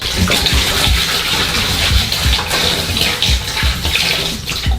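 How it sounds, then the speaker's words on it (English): Vinegar pours into a washing machine drum that already holds some water, a loud, continuous splashing gush like a filling tub with uneven surges, close by and without talk. "So first we're gonna add the vinegar."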